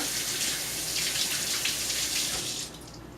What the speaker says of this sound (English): Now let me wash my hands real quick here.